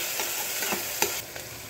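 Onions frying with salt in a pan make a close, steady sizzle, with a few quick scrapes and taps of a spoon as they are stirred.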